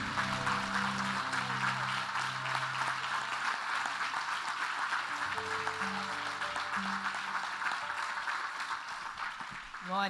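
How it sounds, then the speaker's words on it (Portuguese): A church congregation applauds together in a steady, dense wash of clapping, with a sustained organ or keyboard chord and murmured voices underneath. "Vamos aplaudir esse Jesus bonito."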